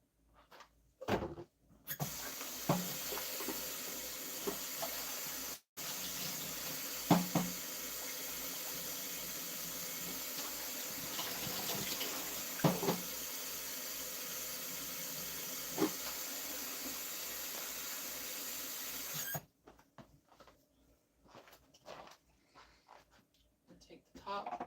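Kitchen tap water running steadily to fill a coffee maker, a continuous loud rushing hiss lasting most of the stretch with a few clunks of handling, then cutting off.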